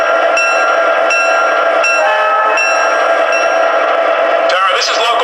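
An MTH Rail King Pennsylvania Railroad SD9 model diesel locomotive with PS3 sound plays its built-in arrival effects: a steady, loud engine drone with sustained horn-like tones, ending in a brief burst of hiss.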